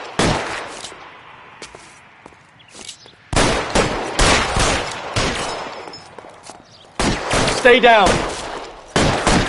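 Gunfire in an L.A. Noire shootout: bursts of loud, close shots in clusters separated by quiet gaps, with someone briefly speaking between volleys.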